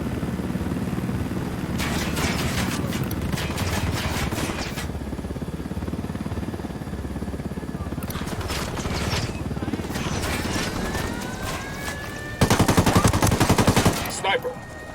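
Heavy video-game gunfire erupts during an assault on a mine in Ghost Recon Wildlands, with bursts of rapid automatic shots, sustained volleys and a loud close barrage near the end, over constant background rumble.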